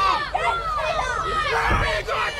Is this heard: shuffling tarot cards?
no